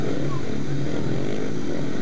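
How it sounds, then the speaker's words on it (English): Speedway motorcycles revving at the start line of a Conference League heat, a loud continuous engine drone with a commentator talking over it throughout. "Bikes are revving away."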